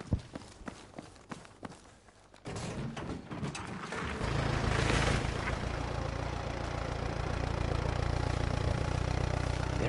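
A tractor engine idles in a video game: footstep-like clicks come first, then a loud, steady low engine rumble takes over at about four seconds and runs on evenly to the end.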